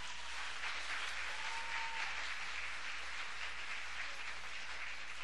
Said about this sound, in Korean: 수련회 가운데 역사하신 하나님께 크게 박수